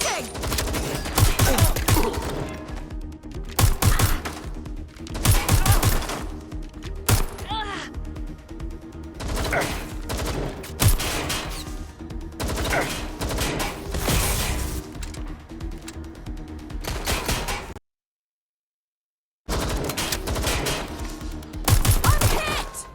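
Heavy gunfire in Watch Dogs: Legion, with dense, loud bursts of automatic fire and crashing impacts that come in repeated volleys with a brief silent gap, mixed with voices shouting over the combat.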